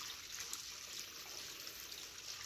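Water trickles steadily from a small spring source high in a Brazilian mountain range, a faint, even, bright babble close by with no voices.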